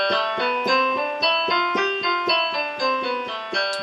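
A keyboard plays a Mixolydian mode scale of separate notes at an even, steady pace, each clearly struck and ringing briefly before the next, with no voices.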